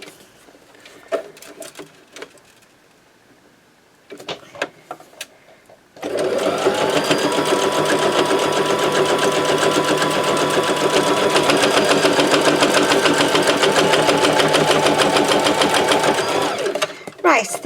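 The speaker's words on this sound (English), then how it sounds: "I'm just sewing straight down the sides." Sewing machine stitching gold thread down the sides of paper journal pages; after a few scattered handling clicks, the motor starts and runs as a loud, steady whir with rapid needle patter for about ten seconds, then stops.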